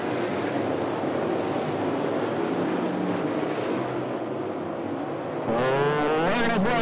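Late model stock cars racing at 411 Motor Speedway, a steady loud engine roar with broadband rumble throughout, shifting near the end as a car passes close with rising whine.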